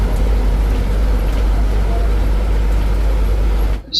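A bus on the forest route from Sathyamangalam to Gundri drones with a heavy, steady low engine rumble and road noise from inside the cabin, cutting off abruptly at the end.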